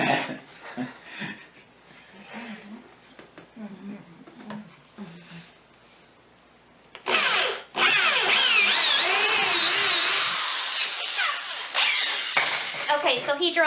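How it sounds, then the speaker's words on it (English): People talk quietly, then a power drill bores holes into wood for a homemade soap mold, a loud, close, whirring grind that rises and falls in pitch as the bit bites and runs on for several seconds. "Okay, so he drilled 3 holes"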